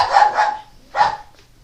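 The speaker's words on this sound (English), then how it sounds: "that's why the dog is sort of making sure that he's heard" Dog barking at neighbors in an Amsterdam garden: a quick pair of close, loud barks followed by a single bark after a short gap, then a faint trailing yip.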